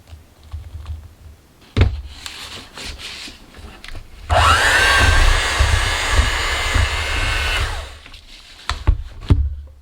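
Paper mache clay made without joint compound being mixed with water, a loud, steady whirring churn that runs for several seconds mid-clip, bracketed by knocks and clatter before and after.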